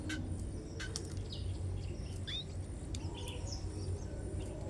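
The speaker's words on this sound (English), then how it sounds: "This is sparrow." A sparrow chirps in short, scattered bright calls over a low steady background hum, with several other birds, including canaries and exotic birds, nearby; the calls are moderately close and fairly faint.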